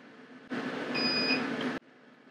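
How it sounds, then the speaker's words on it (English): A Thunder Bolt laser engraver gives a single electronic beep lasting just over a second, a steady tone that starts and stops abruptly against a quiet room hum. "it does beep, letting you know that the information has been sent"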